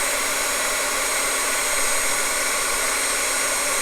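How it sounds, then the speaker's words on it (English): A heat embossing tool blows hot air over embossing powder for cardmaking, a loud, steady close fan roar and hiss with no voices. "this will take me probably less than a minute to heat up my tool and emboss that embossing powder"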